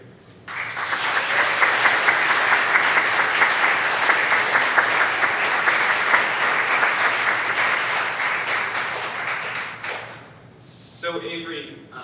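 Audience applauding at an art institute talk, a full, sustained burst of many hands clapping that holds steady for about ten seconds, then stops abruptly before a voice begins speaking.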